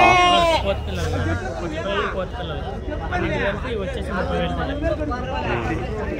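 Goats and kids bleat repeatedly at a busy weekly livestock market, their calls rising over a steady babble of crowd talk and people speaking nearby.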